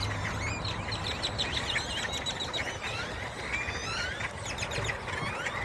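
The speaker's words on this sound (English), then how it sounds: "I've never seen this many birds," A large flock of birds in Texas fills the air with dense overlapping chirps and calls, a continuous chattering din over steady background noise.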